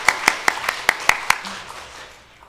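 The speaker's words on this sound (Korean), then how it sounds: "자, 차렷 인사할 때 우리 박수해 주세요." A church congregation clapping during a children's greeting, with a handful of sharp, evenly spaced claps that quickly fade into a soft spread of scattered applause.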